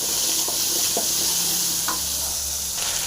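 Radish frying in a pan for chutney, a steady close sizzle with a few soft stirring scrapes.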